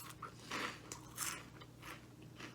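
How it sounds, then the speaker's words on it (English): Flamin' Hot Cheetos bitten and crunched close up, several sharp crisp crunches spaced through the moment with brief chewy crackles between, no talking. "of course, you get a really nice initial crunch"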